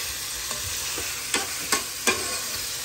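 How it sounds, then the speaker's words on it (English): Food frying in butter and oil sizzles steadily while a utensil stirs it, with a few sharp scraping clicks against the pan standing out over the hiss. "So we just gonna stir this until it all get brown"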